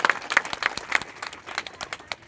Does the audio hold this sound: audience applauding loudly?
yes